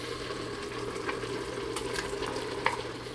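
Tomato added to sizzling beef in an Instant Pot brings a steady background sizzle with a few stirring scrapes and wet clicks, moderately quiet and with no talking.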